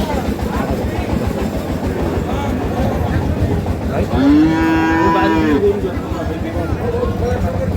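At a cattle market selling Sahiwal bull calves, one loud, drawn-out moo rises for about a second amid constant chatter and bargaining voices.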